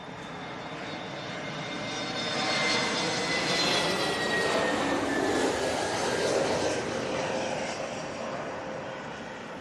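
British Airways Airbus A321neo at Heathrow, engine whine building to a broad roar as it passes fairly near, then easing off gradually, alone without talk.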